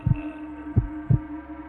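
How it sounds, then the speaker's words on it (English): Heartbeat sound effect in a horror story: three deep, thudding beats, the first a quick double thump, over a low steady hum, close and prominent. "her heart pounding"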